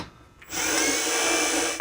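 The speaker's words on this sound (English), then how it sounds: "I'm going to try to finesse it just a little bit with the power drill" A power drill driving a screw into cabinet hardware whirs up to a steady high-pitched spin for just over a second, then stops abruptly.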